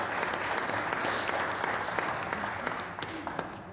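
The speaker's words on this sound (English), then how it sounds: "let's give that applause too" A congregation applauds steadily throughout a Sunday worship service in May 2021, a dense, continuous wash of many hands clapping at moderate volume.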